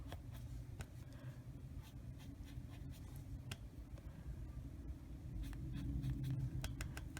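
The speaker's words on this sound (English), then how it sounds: "You hear noise, sorry, scratching there." Faint scratching and scraping up close, with brief clicks scattered through it over a low rumbling background.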